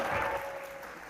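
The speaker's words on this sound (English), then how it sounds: "Let's give her a round of applause." Audience applause at an alumni reunion brunch and awards program, a steady wash of clapping from a crowd that slowly thins and fades over about a second, with no talk over it.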